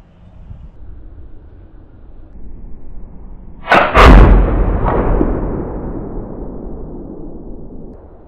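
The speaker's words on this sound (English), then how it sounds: "let's prime our pan up here and see what we can do with this round" A Lyman Great Plains Hunter .54 caliber black powder flintlock rifle fires a single round outdoors, a sharp pan flash and loud close boom with a long decaying rumble, a second crack following shortly after over steady background wind.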